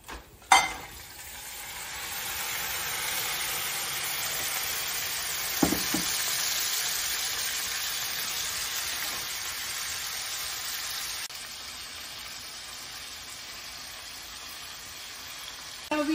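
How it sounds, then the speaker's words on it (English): Shrimp dropped into a hot pot with ginger for a seafood boil: a thump at the start, then a steady broad hiss of sizzling that eases slightly later on, close with no talking. "Now we will add our shrimp."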